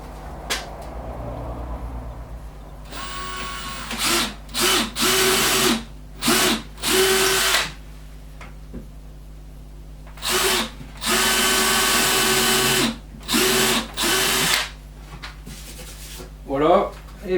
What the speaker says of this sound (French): je perce avec la mèche fraise